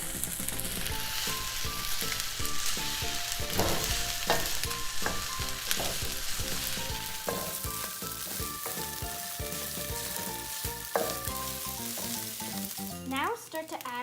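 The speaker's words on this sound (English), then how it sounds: "Now start to stir the eggs and rice together." Eggs and rice stirred together while frying in a pan for fried rice, a steady sizzle with utensil stirring throughout, under tonal background music.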